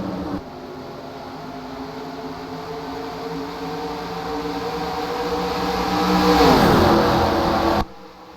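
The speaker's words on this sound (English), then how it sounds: "run off the top, trying to clear Gordon, and now with a run down the back the Long Pond straightaway" NASCAR stock cars race down the Long Pond straightaway at Pocono, their engines a steady broad roar that builds as a car closes in and sweeps past with a falling pitch near the end, and no talking is heard.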